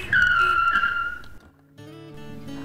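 A car on Bridgestone Potenza RE71R tires brakes hard, and the tires let out a loud, high squeal for about a second and a half before it cuts off, followed by a quieter steady engine hum.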